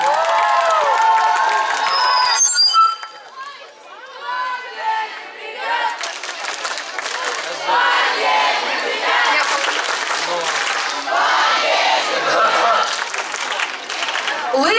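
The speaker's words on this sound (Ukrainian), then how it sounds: "Вітаємо, вітаємо гучнішими оплесками!" An audience at a children's summer camp show applauds and cheers loudly for a performing group. The dense clapping and shouts keep going for many seconds, with a voice heard briefly at the start.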